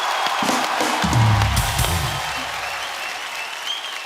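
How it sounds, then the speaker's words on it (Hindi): A studio audience at a comedy talk show bursts into loud, dense applause that holds steady and slowly eases, with some low-pitched crowd noise and cheering in the first half. "सो एक बार जोरदार तालियां हो जाए आप सबके लिए।"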